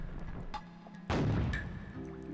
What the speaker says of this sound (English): we just gotta do a little cannon practice